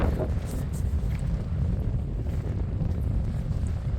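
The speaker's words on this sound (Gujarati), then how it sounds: "એટલો પવન ઉડે છે" Strong wind buffets and rumbles continuously across a farm field, a low roaring gust battering the microphone throughout.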